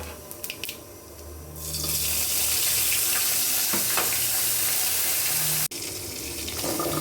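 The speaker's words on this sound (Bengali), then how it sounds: "ওই তেলে জিরে কাঁচামরিচ দিয়ে দেব।" Cumin seeds and green chillies land in the hot oil left from frying fish, and a soft start swells into a loud, steady hiss that breaks off briefly before resuming, with no voices.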